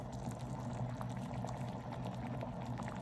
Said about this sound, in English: I'm going to let that boil for about 2 to 3 minutes so that you are getting the most out of the herbs.